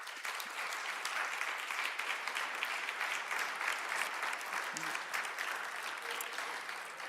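Dense, sustained applause from a large audience at an international medical research awards ceremony, honoring the committee members, a loud, continuous roar of clapping filling the hall for several seconds.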